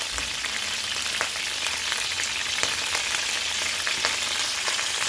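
Scallops sizzling in a hot pan, a steady dense frying hiss with small crackles throughout, close and continuous with no talk.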